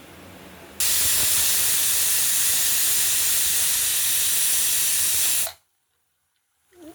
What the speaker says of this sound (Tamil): இப்போ விசில் வந்து நிறுத்தியாச்சு